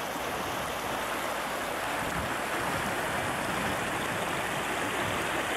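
Steady rushing water of Birch Creek, a desert stream in Idaho altered with riprap and dikes, flows continuously with a broad, even hiss and no voices, like a creek running over rocks.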